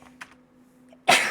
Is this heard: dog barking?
no